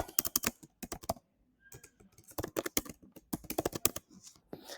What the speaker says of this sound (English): Let me quickly type right.